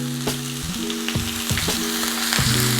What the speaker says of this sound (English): That's the sound that you want to hear when you put your turkey into the pot, okay? Or into the skillet.